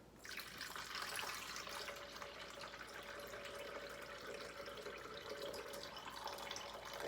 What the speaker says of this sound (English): and all the coconut water comes out